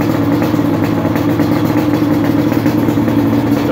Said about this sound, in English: This is very first start on a fresh Redline top end.